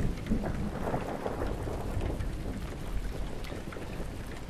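A thunderstorm in the sailing game Make Sail brings steady heavy rain pattering on surfaces and low rumbling thunder rolling underneath throughout, dense and continuous with no voices.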